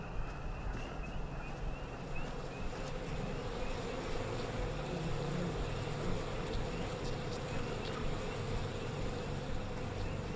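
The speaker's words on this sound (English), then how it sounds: "Maybe you could find a beehive nearby and steal some honey." Bees swarm around a beehive in the video game We Happy Few, giving a steady, continuous buzzing drone that holds evenly throughout with no talk over it.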